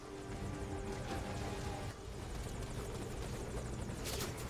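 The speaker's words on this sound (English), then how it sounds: "Because your chopper's in danger of being shot down." Helicopter from the video game Metal Gear Solid V: Ground Zeroes, a steady loud rotor drone running throughout with dense chopping texture and a brief swell near the end.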